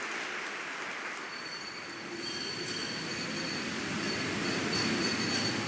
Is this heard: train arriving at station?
yes